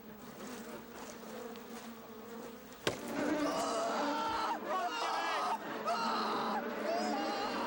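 Bees swarming around a beehive outdoors, a dense buzzing that holds throughout and grows busier after a sharp knock, with people talking underneath.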